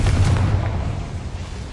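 A Confringo fire blast spell bursts in Hogwarts Legacy as a single loud, deep boom whose rumble fades over a second or two.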